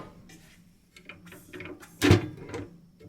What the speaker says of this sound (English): When you pull it out, you get a little bit more drawer on this side